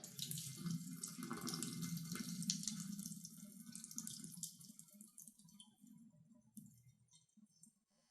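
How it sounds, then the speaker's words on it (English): Cold water runs from a kitchen tap to rinse freshly churned butter inside a small butter maker, a soft continuous splashing and trickle that fades gradually near the end. "Now rinse with cold water"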